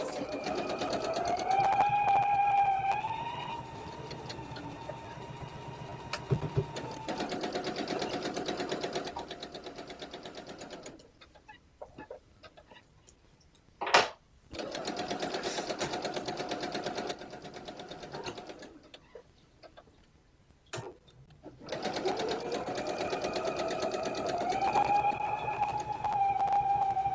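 A sewing machine stitches a quilt in loud, steady whirring runs, stopping twice for quiet pauses with a sharp click, then starting up again.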